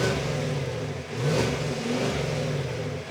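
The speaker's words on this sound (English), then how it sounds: "we did grab some exhaust sound just sitting in my driveway revving it." A 2025 GMC Yukon AT4 with a 6.2-liter V8 revs in park in a driveway, its exhaust rising and falling through a couple of throttle blips near the microphone, held to a limited rpm.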